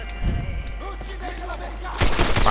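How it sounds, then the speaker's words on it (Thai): M1 Garand rifle fire in the World War II shooter Medal of Honor Airborne, a loud burst of gunfire in the final half second after quieter game ambience, with a voice speaking over the start. "นี่ ปืน M1 การัน"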